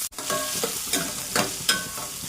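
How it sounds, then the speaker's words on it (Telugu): Sliced onions frying in hot oil for an egg curry, a steady close sizzle with a few soft stirring scrapes recurring every half second or so. "సన్నగా కట్ చేసుకున్న ఉల్లిపాయలు వేసుకుంటున్నాను"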